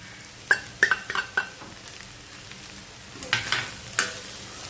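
Chopped bitter gourd sizzles steadily in a pan. A spatula scrapes and clinks against the metal in quick bursts, close and fairly loud over the constant frying hiss.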